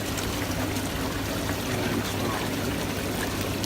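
Running water from the waterfall feature of a Dynasty Spas Victory STII hot tub, a steady, close splashing trickle with a low pump hum underneath.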